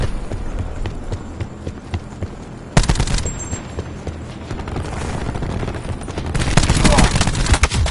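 A nine bang stun grenade in a tactical shooter video game goes off as a rapid series of sharp cracking bursts, loud and close, rising out of quieter footsteps and game noise.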